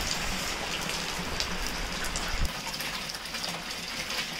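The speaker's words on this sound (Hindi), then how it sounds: "देख सकते हैं बारिश कितना ज़ोर से होने लगा है" Heavy rain from Cyclone Yaas pours steadily, a dense, constant hiss of drops drumming on surfaces nearby.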